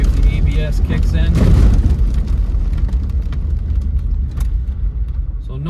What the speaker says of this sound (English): Alright, so we're going to get on the brakes hard here.